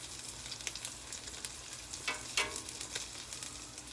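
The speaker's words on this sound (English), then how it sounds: "I'm gonna put a couple pieces of bacon on that bad boy." Bacon strips sizzle on a hot chaffle maker, a steady bright crackle with scattered pops and spits, close and alone, with no talking.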